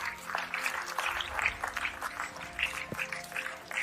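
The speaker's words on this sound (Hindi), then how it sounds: "एक जोरदार तालियां होनी चाहिए" A seated audience at an indoor health awareness program applauds to welcome a speaker, with brisk, fairly faint clapping sustained throughout and a few voices mixed in.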